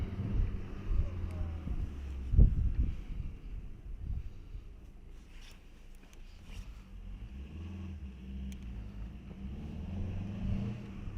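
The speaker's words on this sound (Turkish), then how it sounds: "Aracımızın test sürüşüne başlıyoruz." Low, steady rumble of a Fiat Albea driving on a test drive, with wind noise and a brief bump early on.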